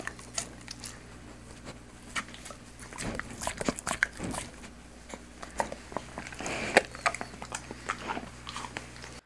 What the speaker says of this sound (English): Here's the sound of Sammy eating a hot dog from about 6 inches away.